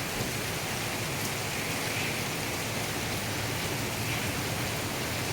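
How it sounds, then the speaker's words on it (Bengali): Heavy rain pours steadily during a storm, a dense, continuous wash of even hiss with no breaks or distinct drops, close and constant throughout. "কি বৃষ্টি ঝড়।"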